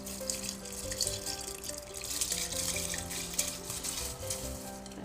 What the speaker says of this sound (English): So now the rice is going in.